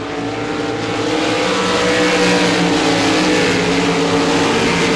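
RaceSaver sprint cars racing closely on the oval at Devils Bowl Speedway, a loud continuous roar of several engines revving and droning without a break.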